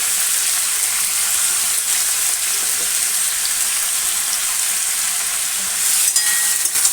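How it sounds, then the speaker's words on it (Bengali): Vegetables for a Bengali chhakka curry frying with turmeric in a pan, a loud continuous sizzle with occasional stirring scrapes and a brief clatter near the end, no talking. "হলুদ দিয়ে ভালো করে নাড়াচাড়া করবো।"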